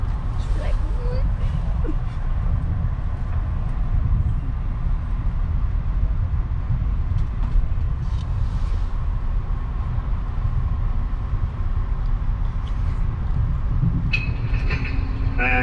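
Inside an Amtrak passenger train, a steady low rumble of the moving carriage fills the background, with faint rattles and clicks near the end and no clear talk.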